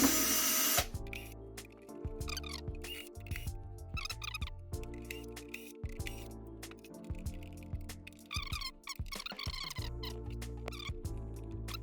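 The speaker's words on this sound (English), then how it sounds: "Now we are gonna try to remove these screws." Screws being removed from a JBL Partybox Encore speaker during a teardown, heard as a close series of short whirring driver bursts and small mechanical clicks and creaks, with no talking.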